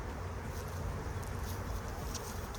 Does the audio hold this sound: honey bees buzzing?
yes